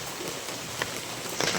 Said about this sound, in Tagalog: Pagka ganyan, ang lakas ng ulan, wala nang basa.